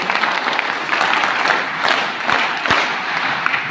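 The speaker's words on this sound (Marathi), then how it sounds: "सर्वांनी तुमच्या वास्तवाचं एकदा टाळ्या वाजवून अभिनंदन करावं" An audience at a wrestling centre gathering applauds, producing a loud, sustained round of dense clapping from a crowd nearby, with faint cheering mixed in.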